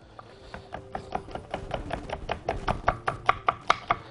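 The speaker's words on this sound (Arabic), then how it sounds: "اقطع البصل ده شرايح" Knife slicing an onion into rings on a cutting board: a quick, even series of crisp chopping taps, close up, speeding slightly and getting sharper toward the end.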